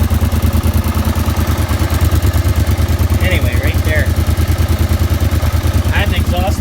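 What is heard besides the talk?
quad engine running with an exhaust leak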